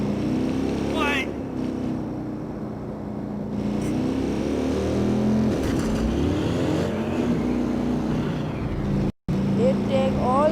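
In the video game Watch Dogs 2, a customized motorbike engine runs and revs continuously at a loud, close level, with rising and falling pitch sweeps and no clear talk.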